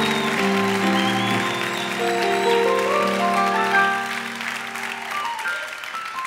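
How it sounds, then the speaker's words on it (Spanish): A congregation at a church service applauds steadily over sustained keyboard music, with the clapping fading out in the final seconds. "Y si lo crees, dale un aplauso fuerte al Señor."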